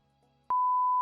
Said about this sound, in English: we'll put a beep